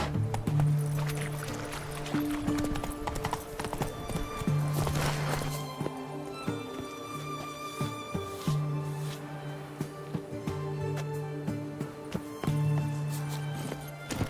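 Roach the horse galloping in The Witcher 3, rhythmic hoofbeats clip-clopping steadily across the ground over game music and ambient tones, fairly close, with occasional speech.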